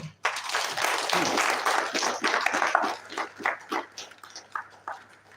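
An audience at an academic social sciences and humanities event gives a round of applause for a research leader, a dense burst of clapping that thins into scattered claps and fades out.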